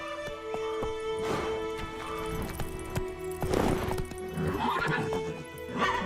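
Roach the horse in The Witcher 3 neighing and trotting, a whinny and clip-clop hooves over a steady game ambience with music tones, fairly close.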